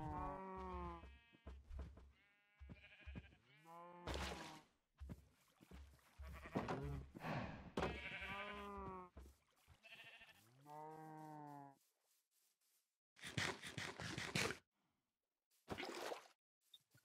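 Sheep in the video game Minecraft bleat over and over, with wavering, overlapping calls that come in bursts followed by short gaps.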